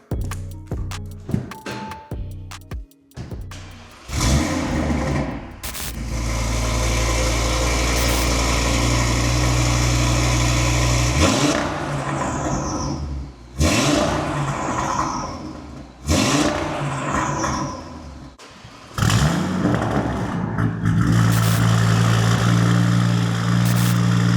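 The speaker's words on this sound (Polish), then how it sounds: "porównamy, jak brzmi aktualny wydech, czyli tylko downpipe oraz midpipe bez GPF-a oraz katów" A loud, raw Audi RS3 8Y exhaust with downpipe and midpipe, no catalysts or particulate filter, revs hard several times, dropping back to a rough idle between sharp throttle blips, with no one talking.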